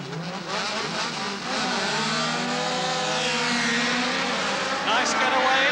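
Rallycross cars from the 1980 RAC British Rallycross Championship accelerate away from the start with loud, rising engine roars blending together, continuous and close, under a commentator's voice.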